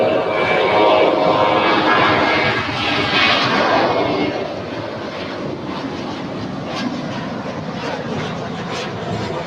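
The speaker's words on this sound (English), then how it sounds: "JetBlue A320 to depart here on the south side." A JetBlue Airbus A320 jet departing LAX from the south side, heard as a loud, broad roar of jet engines that is strongest at first and then slowly fades, with a little wind noise and no voices.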